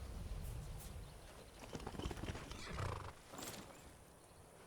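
In the video game Skyrim, a horse whinnies loudly while hooves clip-clop in a quick rhythm, with a short snort-like burst near the end.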